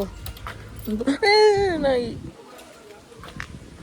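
A dog whimpers in a drawn-out, wavering high whine lasting about a second, close by, with faint background noise around it.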